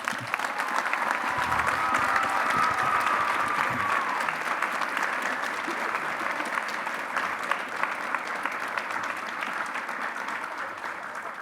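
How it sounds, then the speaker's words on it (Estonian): Audience applause at a fashion show, a dense, steady wash of clapping that carries loudly and evenly through the whole stretch with a bright, crowded texture. "Suur aplaus."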